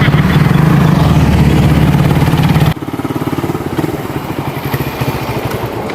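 A motorcycle engine runs close by, a loud steady chugging drone that shifts abruptly partway through to a lighter, pulsing idle-like rhythm.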